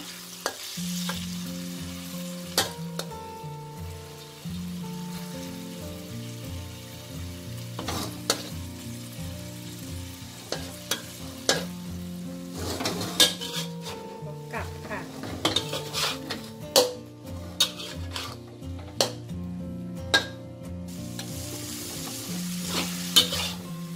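Eggs and peanuts are stir-fried in a pan over medium heat with a constant sizzle, and a metal spatula clanks and scrapes repeatedly against the pan in an irregular rhythm.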